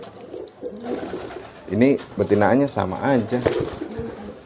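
Pigeons coo loudly and repeatedly close by in rolling, throaty bursts, while someone talks over them.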